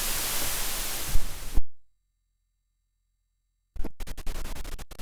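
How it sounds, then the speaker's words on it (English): White noise from a multi-sampler's built-in noise generator hisses steadily and loudly for about a second and a half, then cuts to silence, followed by a series of sharp clicks and short noisy bursts. "This is white noise."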